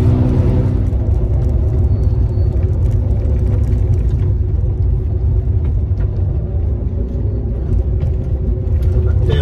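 Steady low rumble of a 1961 Jaguar E-Type engine driving along, with a smooth change into second gear partway, no voices.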